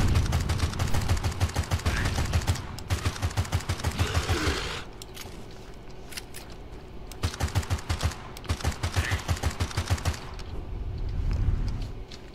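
Video game gunfire in Cryptis: bursts of rapid, evenly spaced shots, several volleys separated by short pauses, loud and close, with faint mechanical clicks between.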